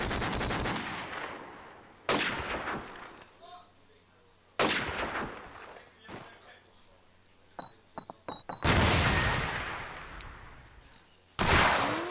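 Bursts of gunfire crackle in a video game, several sharp loud volleys spaced across the span with quieter gaps and small clicks between them.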